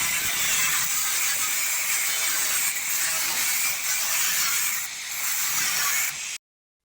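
An angle grinder cuts through the steel wall of a shipping container, giving a steady, loud hiss and rasp that runs almost without a break before it stops abruptly.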